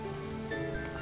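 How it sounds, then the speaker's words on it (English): Rain falling in a retro-style video game, a steady hiss of patter that continues through a brief one-second stretch, with sustained tones ringing beneath it. "I remember the rain."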